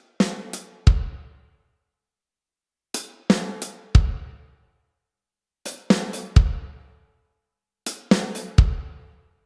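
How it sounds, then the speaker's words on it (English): Close drum kit pattern of 16th notes, hands alternating hi-hat and snare followed by a deep kick drum, played as a four-hit figure repeated four times with gaps of silence, no voices. "left hand on the hi-hat, right hand on the snare, left hand on the hi-hat, kick drum."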